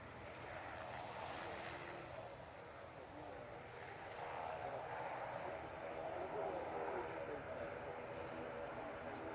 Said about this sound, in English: Lovely landing there from the Singapore.